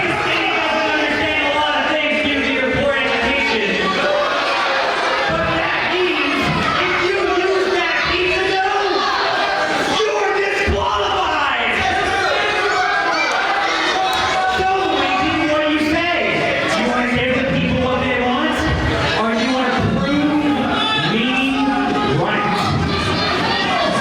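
A capacity crowd at a Central States Wrestling show fills the arena with a dense, steady roar of disgruntled murmuring and shouts, while a commentator's voice talks over it throughout.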